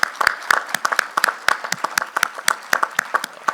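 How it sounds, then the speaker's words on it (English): An audience applauds for a 91-year-old honoree at his birthday during a summit event, dense steady clapping from many hands filling the whole stretch at moderate loudness. "give him a huge round of applause for his 91st birthday today"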